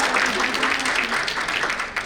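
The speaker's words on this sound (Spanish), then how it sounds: "Vamos, un aplauso cordial para ella." Audience applause at a data protection panel during an HR conference, a steady moderate clapping that runs throughout.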